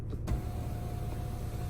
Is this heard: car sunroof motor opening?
yes